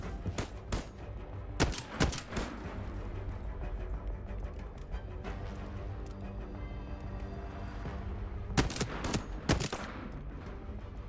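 Rapid bursts of gunfire from a first-person shooter in the Void Train video game: dense automatic fire with sharp loud shot clusters near the start and end, continuous throughout the clip.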